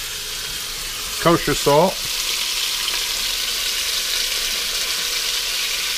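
Beef for a stew fries in hot oil with a loud, continuous crackling sizzle. A voice speaks briefly near the start, and the sizzle runs steadily underneath.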